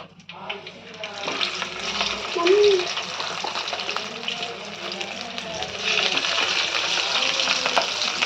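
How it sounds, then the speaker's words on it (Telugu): Fish fries in a pan in a continuous, close sizzle that swells slightly partway through, with a short stir or scrape near the start. "కాలిన తర్వాత ఇంకా వేరే ఫిషెస్ వేసుకున్నాం"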